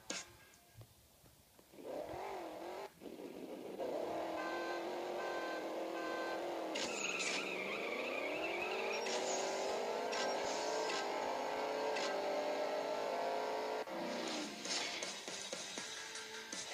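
Game-engine car sounds from the CSR Racing iPad game: a revving engine climbs steadily in pitch through a drag race, with a brief gear-shift dip and a steady loud drone, no talk.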